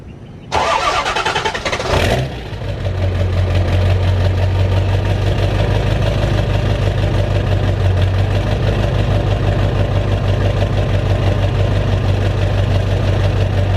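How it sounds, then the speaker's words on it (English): A diesel truck cold-starts with a loud cranking burst of about two seconds, then catches and settles into a steady, heavy low rumble at idle that holds close and constant to the end. "let's go ahead and start the day off with a cold start and a drive to O'Reilly's"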